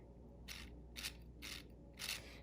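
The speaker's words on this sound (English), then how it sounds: "even if I bend it a little bit, the bevel gear can still transfer motion, thanks to those edged teeth" LEGO bevel gears turn inside a flexed, slightly bent frame, producing four evenly spaced soft clicking bursts about half a second apart. The ticking is faint and close, with a quiet hum underneath.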